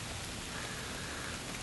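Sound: heavy rain falling outdoors

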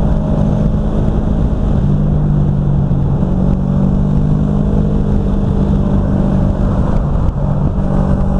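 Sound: Ducati MotoGP racing motorcycle engine passing

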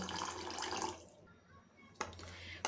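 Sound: water poured into bael fruit pulp for bael pana drink

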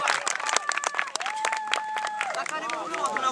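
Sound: audience applause

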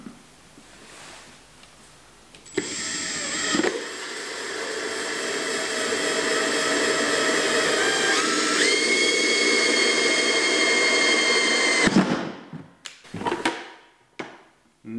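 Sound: drilling a hole with a 51 mm hole saw

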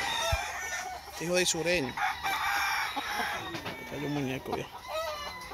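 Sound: rooster crowing

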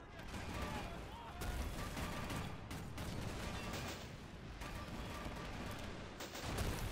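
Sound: Bofors gun firing in the video game Men of War Assault Squad 2

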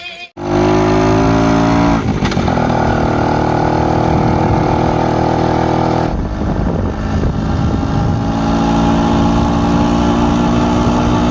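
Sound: superbike motorcycle engine

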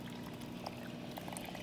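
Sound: water flowing through a stream table carrying sediment

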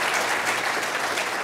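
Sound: audience applause

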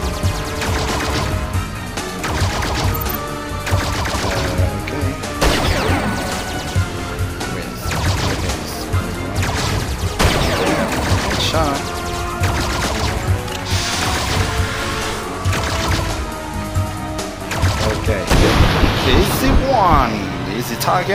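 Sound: gunfire in Men In Black Galaxy Defenders video game

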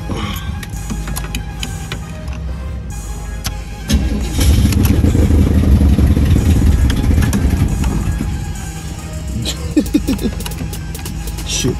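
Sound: Chevy Caprice engine being started

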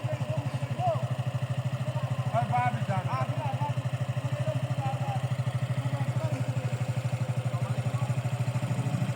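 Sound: motorcycle engine on a rough hill trail

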